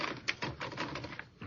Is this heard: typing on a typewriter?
yes